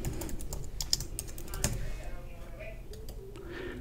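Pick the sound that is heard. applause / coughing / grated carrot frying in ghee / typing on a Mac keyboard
typing on a Mac keyboard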